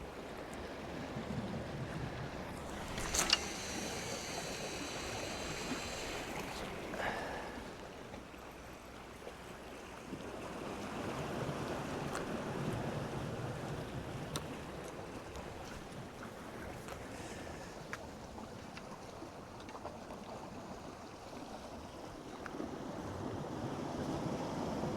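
Charter boats approaching on the sea off Sker rocks, Porthcawl, a faint distant engine drone mixed with waves, surf and wind buffeting the microphone, with no talking.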